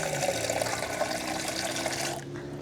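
Water pouring from a container into flour for a dough mix, a steady close splashing trickle that fades out near the end.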